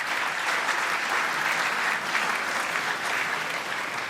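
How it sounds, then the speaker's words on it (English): Audience applause at a cricket awards night, a steady, dense wash of clapping from a large crowd that holds evenly throughout with no talk over it. "Big round of applause for Adam Zampa."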